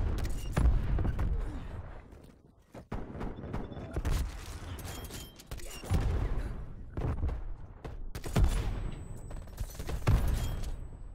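MAC-10 bursts in a shooter video game crack in clusters of rapid shots with brief pauses between them, close and loud, alongside mechanical clicks and a speaking voice.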